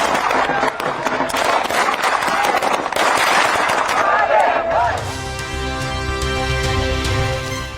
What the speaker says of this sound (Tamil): குஜராத்தின் மெக்சனாவில் பட்டாசுகளை வெடித்தும் கொண்டாட்டம்.